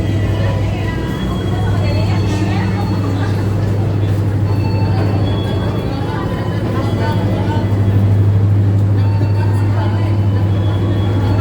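Cabin of a moving Pangandaran passenger train in panoramic class, with a loud continuous low rumble and steady drone throughout, plus faint chatter from a crowded carriage.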